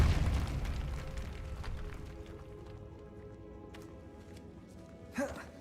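The Depulso force spell is cast in Hogwarts Legacy inside an old, decayed catacomb. A sharp, bursting blast opens and trails into a fading low rumble, with a small brief pop near the end.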